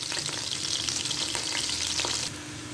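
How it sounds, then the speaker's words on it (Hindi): Onions frying in hot oil for a chickpea pulao, a steady close sizzle running throughout with faint stirring scrapes and a slight drop in intensity near the end. "तेल गर्म हो चुका है, अब इसमें शामिल कर देंगे प्याज। इसको अच्छे से फ्राई कर लेते हैं"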